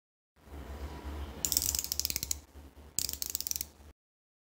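A micrometer screw gauge's ratchet clicks as the spindle closes onto an item between anvil and spindle. Two crisp, close bursts of rapid, evenly spaced ticks stand out over faint mechanical handling noise, with no talking.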